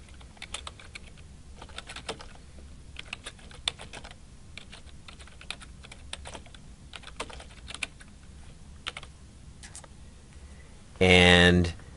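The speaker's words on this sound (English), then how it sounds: "So I type in my question." Someone types on a computer keyboard in scattered bursts of soft, close key clicks, followed by a brief louder tonal burst at the end.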